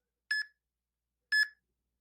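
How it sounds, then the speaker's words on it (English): Two short electronic timer beeps from a Tabata conditioning test, sounded over a loudspeaker about a second apart, clean and isolated with silence between. "they hear it on the loudspeaker like, hey, there's that beep"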